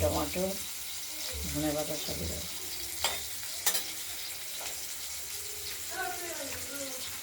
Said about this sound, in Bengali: এই মাছ আমরা খুব ভালোভাবে ভেজে নেব।